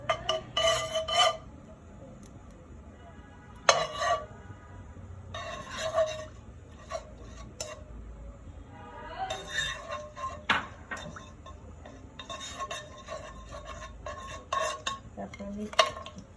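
Ghee melting with mustard oil in a pan for Bengali fish head curry, intermittent spoon clinks and scrapes against the metal pan over a faint sizzle, with quiet gaps between the stirring bursts.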